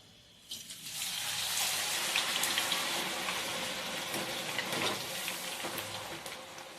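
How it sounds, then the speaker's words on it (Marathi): French fries dropped into hot oil, frying with a steady broadband sizzle that begins abruptly and holds close and even, with no talk. "आता आपण हे तळून घेऊ"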